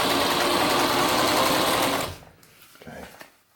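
A Singer 107W1 sewing machine driven by a servo motor runs loud and steady, stitching a wide zigzag through 16 layers of sail cloth for about two seconds, then stops and leaves softer mechanical clatter.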